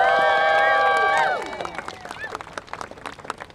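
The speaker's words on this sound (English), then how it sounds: "give just a big round of applause" Crowd at an outdoor clean-energy and transit rally breaking into applause and cheers after a long amplified tone fades, the clapping scattered and moderately loud with bursts continuing to the end.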